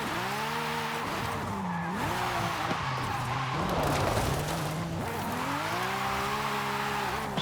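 Car drifting with rear-biased power in Forza Horizon 5, engine droning and revving with shifting pitch over continuous tire squeal and skidding, loud and close throughout.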